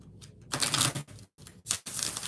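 Tarot cards being shuffled by hand in quick riffling bursts with brief pauses, close and fairly faint.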